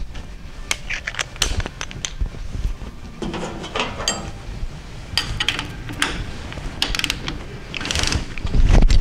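Torque wrench tightening a rocker arm pivot bolt, sharp repeated ratcheting clicks in bursts, close up, with metallic handling noise between them.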